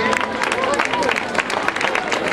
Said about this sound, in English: Let's cheer them on, please.